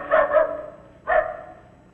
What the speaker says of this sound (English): there's that dog again. Do you hear him?